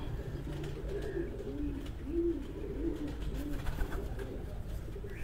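Pigeons coo in a steady series of low, rolling calls at a home pigeon show in Sargodha, several birds overlapping close by over a constant background hum.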